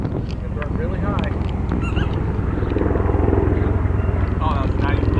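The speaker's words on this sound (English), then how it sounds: "The helicopter." A helicopter flies overhead outdoors, its steady low rotor thump and engine drone running continuously and growing slightly louder, while voices talk and animal sounds occur nearby.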